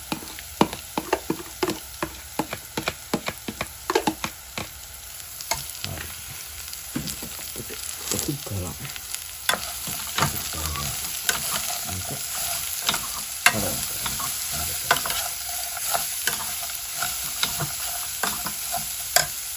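Chopped beetroot sizzling in a hot pan for a beetroot curry, with frequent sharp scraping strokes of a spoon stirring through it over a steady close frying hiss, no talking.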